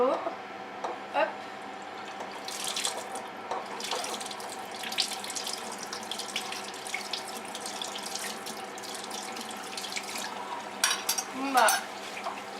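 An opened kitchen tap runs into a sink, a steady water stream with splashing and clattering bursts of items being rinsed, while someone talks intermittently over it.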